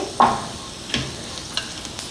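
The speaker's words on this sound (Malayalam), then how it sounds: "പാവയ്ക്ക ചേർത്ത് കൊടുക്കാം അതുകൂടിയിട്ട് നന്നായിട്ടൊന്ന് വഴറ്റിയെടുക്കാം" Bitter gourd sautéing with salt in a pan, a low steady sizzle with a few soft spatula scrapes and stirring knocks, close and fairly quiet.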